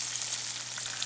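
Lake trout pan frying in a hot pan, a close steady bright sizzle with crackling spatters throughout, no voices.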